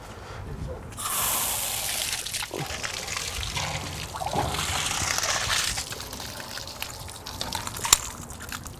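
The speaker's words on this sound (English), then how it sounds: "we'll go through and run these valves, and you'll see how much water actually comes out of these after we got them drained" Water pours and splashes steadily from the drain valves of a Dultmeier brine maker, a continuous loud rushing trickle that swells and eases over several seconds with faint background noise.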